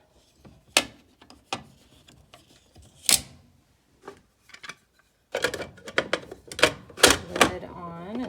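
An ice cream machine's bowl is set in and its lid locked: a series of sharp plastic clicks and clunks, sparse at first, then a denser cluster of knocks and snaps near the end.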